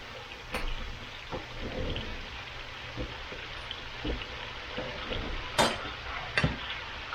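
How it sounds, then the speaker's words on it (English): Constant close sizzling of fajitas in a hot pan, with occasional sharp clanks and scrapes of a utensil moving the food. "Got a sizzling going."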